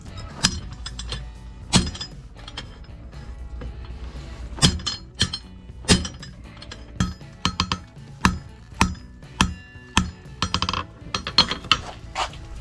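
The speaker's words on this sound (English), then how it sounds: "now I'm going to heat this in and hammer it down to a square shank" A blacksmith hammers heated steel into a square shank for a fireplace tool set: loud, ringing metallic strikes landing in irregular bursts, often in quick doubles, with brief pauses between.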